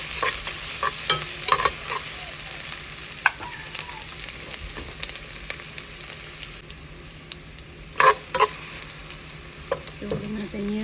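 Vegetables being sautéed in a home kitchen pan for a Filipino mung bean and moringa leaf dish, with a steady low sizzle, scraping stirs throughout and a few sharper clanks of a utensil against the pan near the end.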